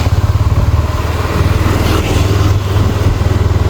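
A four-cylinder superbike engine revs hard in second gear, a loud, close, rapidly pulsing growl that holds steady with slight dips as it pulls.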